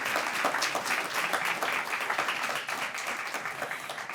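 Community network meeting attendees applaud together in a sustained, moderately loud patter of many hands, steady throughout with slight swells.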